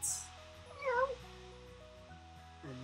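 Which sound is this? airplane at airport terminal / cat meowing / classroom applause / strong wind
cat meowing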